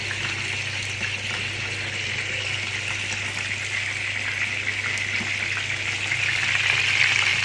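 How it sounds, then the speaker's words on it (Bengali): Eggplant slices frying in a pan for begun bhaji, a steady close sizzle and hiss of hot oil that runs unbroken throughout and swells slightly toward the end, with no talk. "এখানে বেগুন ভাজি হচ্ছে।"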